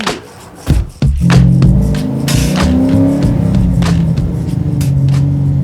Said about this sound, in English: It does have that Ford race car sound, eh?